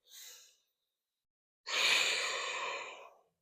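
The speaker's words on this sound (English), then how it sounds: "Take a full breath here." During yoga practice a person makes a short inhale, pauses in silence, then lets out a long, airy exhale that sounds close and fairly soft, with no speech.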